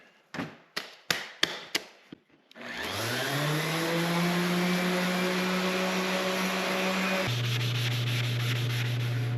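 A handful of sharp knocks give way to a power tool spinning up and running steadily with a 120-grit sanding disc on a planer's cast-iron table, its whine dropping to a lower pitch partway through.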